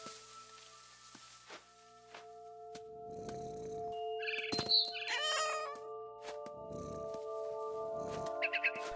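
A cat meows in the video game What Remains of Edith Finch, several short high cries over a steady tonal game soundscape with soft rumbling textures, moderately close and fairly quiet.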